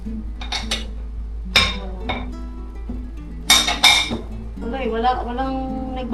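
Plates clinking together while being wrapped and packed with newspaper during a house move, scattered close ceramic chinks and rustles under a steady hum, with a voice speaking intermittently.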